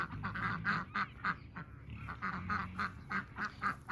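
Domestic ducks, including several drakes, quack loudly and repeatedly in quick rhythmic bursts close by, with overlapping honking calls and no talking.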